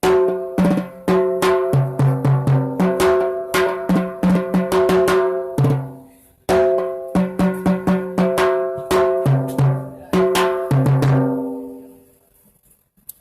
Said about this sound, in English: And both together sound like this